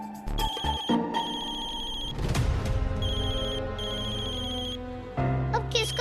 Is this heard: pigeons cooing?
no